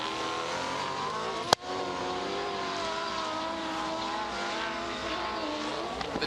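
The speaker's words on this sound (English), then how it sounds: "The different engine notes are amazing. You can hear the air intake on the Mark II Escort." Rally car engines roar together at a rallycross event, Mark II Escort among them with its air intake audible, a steady dense engine drone broken by one sharp sudden crack near the start.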